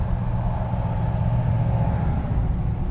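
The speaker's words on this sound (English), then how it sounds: "all the cars going by" Steady roadside traffic of cars passing on a busy road near a repair spot, a continuous low rumble with a faint engine hum throughout, no voices.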